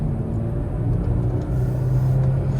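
A 4-cylinder car accelerates up to speed from inside the cabin, producing a steady low engine rumble and road drone that holds at an even level throughout, with no speech.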